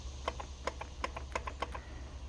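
A lawnmower carburetor solenoid clicks in a quick irregular series of sharp, close ticks over a low steady hum.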